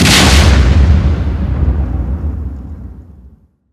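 A loud, deep explosion booms from a played video clip and then rumbles away over about three seconds until it falls silent.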